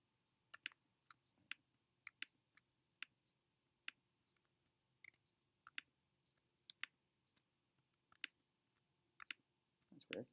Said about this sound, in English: So I'm going to right mouse click on the cat.